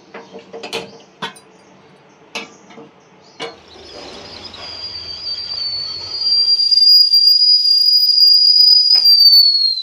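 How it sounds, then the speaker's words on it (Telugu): A pressure cooker boiling milk on a kitchen stove lets out a loud, steady, high-pitched whistle that rises and holds for several seconds, preceded by a few sharp metallic clicks and clatters. "దీన్ని ఇంకా మనము స్టవ్ మీద పెట్టేసుకుంటే కొద్దిసేపటికి విజిల్ వస్తుంది."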